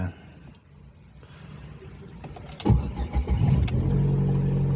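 A 2012 Ford Fiesta S hatchback engine cranks briefly and catches on a single start, then settles into a steady close idle hum.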